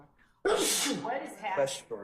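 A single loud, close sneeze bursts out in a courtroom, followed by people speaking.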